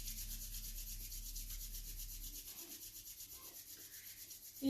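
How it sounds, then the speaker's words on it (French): Palms rubbing briskly together in a qi gong and Do-In self-massage, a soft, steady, close-up swishing that continues for several seconds with no talk. "On frotte."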